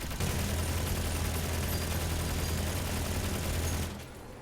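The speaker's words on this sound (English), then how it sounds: "even if you aim where it can't aim, it will still shoot" The Aurora weapon on a spider robot in a mech video game fires a continuous dense barrage of rapid shots, loud and sustained for nearly four seconds before cutting off abruptly.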